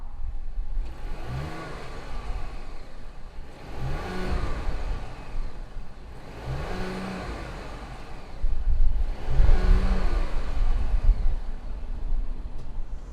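A 2019 Audi Q8 S-Line SUV starts and revs repeatedly, with four distinct rising-and-falling engine blips over a steady idle, recorded close by from outside with no talking.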